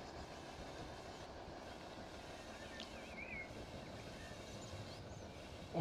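A train rolls into a siding through a switch on a railway track, giving a steady rumbling with faint clicking, heard quietly and at a distance.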